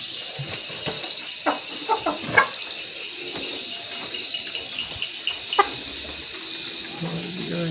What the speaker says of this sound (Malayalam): കോഴിനെ വീട്ടിലായല്ലേ?